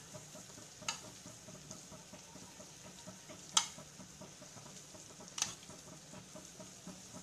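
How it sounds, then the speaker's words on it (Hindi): Masala with tomato paste, coriander and turmeric powder frying in a pan over high gas for a Kokan-style dry chicken masala; a quiet steady sizzle with a few sharp clicks of a spoon against the pan. "अभी गैस को फास्ट करेंगे और इसे भून के लेंगे अच्छे से मसाले को मिक्स करके"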